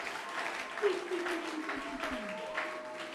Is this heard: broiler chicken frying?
no